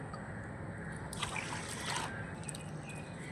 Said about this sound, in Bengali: আমি একবার জল দিয়ে ধোয়াটা আপনাদের দেখিয়ে দিলাম